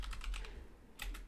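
Bursts of clicky keystrokes on a computer keyboard, entering a search term in a crafting game, come in quick clusters followed by a short pause and another burst, close and alone with no talk.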